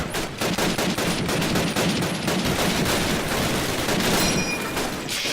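Dense, continuous gunfire from the video game Call of Duty: United Offensive, with rapid overlapping rifle and machine-gun shots and booming impacts, loud and close throughout, with no talking.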